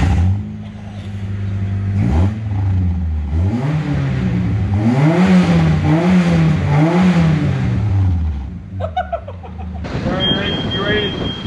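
A car engine revs to clear water from the exhaust after a wash, rising and falling in several loud, wavering swells before dropping off, with a brief different sound at the end.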